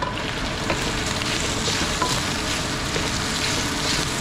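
Eggplant browning in hot oil, a steady dense sizzle and crackle with no breaks, close and fairly loud throughout.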